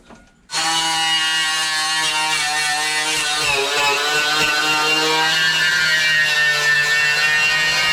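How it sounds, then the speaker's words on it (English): A power grinder works metal in the wheel well of a Toyota AE86, spinning up sharply and then holding a loud, steady, high-pitched whine with a slight change in tone partway through. "now I'm gonna have to grind away a little"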